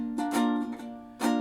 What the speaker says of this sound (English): So the song sounds like this if I just strum it.